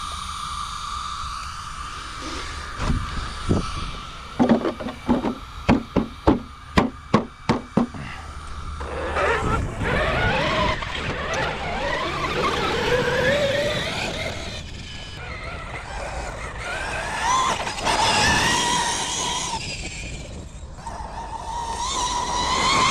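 A Traxxas XRT belt-drive RC truck weighing about 30 pounds drives with a rising and falling electric motor whine and tire noise. A quick series of knocks is heard early, and the whine surges and fades as the truck speeds up and slows down.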